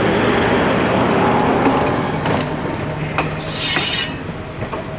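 A seaside train in Colombo rumbles past close by in a dense, loud roar, with a few sharp metallic clanks and a brief high squeal near the end, and no voices.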